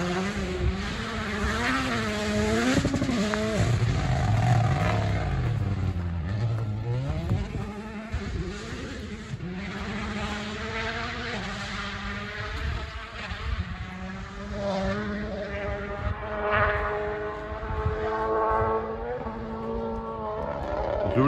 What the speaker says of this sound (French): Vous l'entendez au loin ce véhicule, alors c'est une Toyota pilotée par Ogier, Sébastien Ogier.